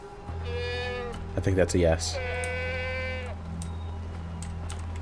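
A goat bleats in Far Cry 4 with a long, steady, close cry of harmonic tones, layered over a constant low game hum while a voice breaks in midway.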